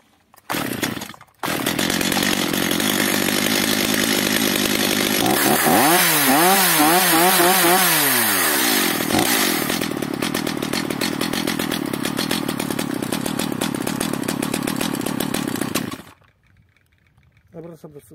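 A Stihl MS 210/230/250 chainsaw with a hard-starting, stalling fault and carburetor adjustment runs loud and close for about fifteen seconds, revving up and down in wavering bursts before idling and cutting off.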